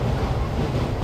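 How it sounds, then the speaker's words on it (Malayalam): A moving train rumbles steadily, heard from inside as a low, continuous rolling drone with no distinct clacks and no talking. "ട്രെയിൻ അതിൻ്റെ ജോലിയൊക്കെ തുടർന്നുകൊണ്ടിരിക്കുന്നു."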